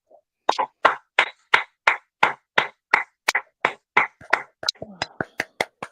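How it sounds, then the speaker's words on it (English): On a morning show, someone claps about twenty sharp, evenly spaced times against near silence, slightly quickening toward the end. "give me a round of applause before we start"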